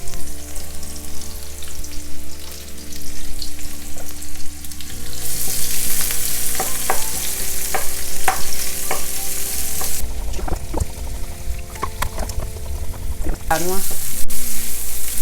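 Onion frying in a pan for Gboma Dessi vegetable stew, a loud close sizzle and crackle that swells as the onion hits the oil, with stirring scrapes throughout and no talking.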